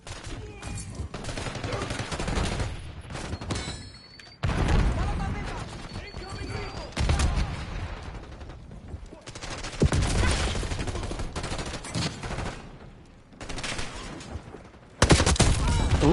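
Gunfire in the video game FragPunk, repeated bursts of rapid automatic shots and single cracks in several loud clusters separated by brief pauses, with a voice talking in between.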